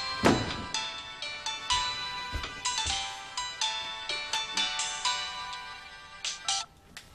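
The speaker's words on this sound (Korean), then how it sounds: "저기 홍우경 씨 핸드폰입니다." A mobile phone's melodic ringtone plays clearly, a sequence of bright electronic notes repeating in a steady pattern, close and alone.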